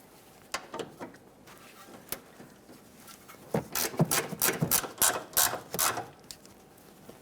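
A ratchet clicks as it snugs a bolt on the rear axle of a 2007-2013 Acura MDX 3.7L V6. Scattered faint clicks come first, then quick close bursts of ratcheting, with no talk.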